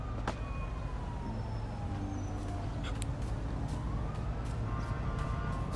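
An ambulance siren in GTA 5 wails faintly in the distance, its sweeping tone rising and falling over a low background rumble, with no talk over it.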